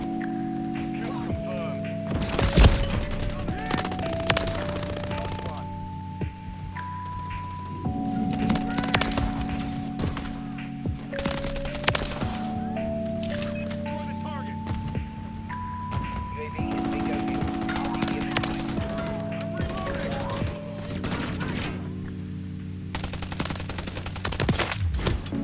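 A UMP45 submachine gun fires in Call of Duty: Modern Warfare III, several rapid bursts of gunfire over steady game background music.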